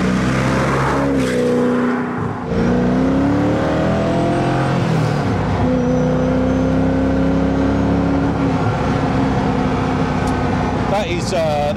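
Koenigsegg CCX 1,000 bhp hypercar engine revving hard at full throttle, a loud rising and falling engine note with gear changes, heard from inside the car over wind and road noise, with people talking.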